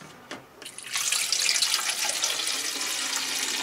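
Water pours from a tap into the three-litre tank of an air humidifier in a kitchen, a steady close splash that starts after a few small clicks and keeps running to the end.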